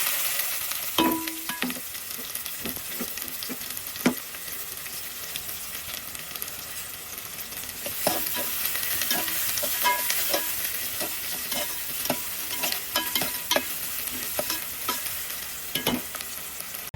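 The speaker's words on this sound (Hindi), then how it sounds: "उसे डालकर ट्रांसपेरेंट होने तक हम फ्राई कर लेंगे" Chopped onions sizzle steadily in hot oil with cumin and fenugreek seeds for kadhi, a continuous fry punctuated by repeated scraping stirs of a spoon against the pan, close and without talk.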